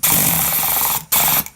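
Pneumatic air chisel from a Mastercraft 71-piece air tool kit, a loud, steady rapid hammering that cuts out briefly near the middle, then resumes and stops again.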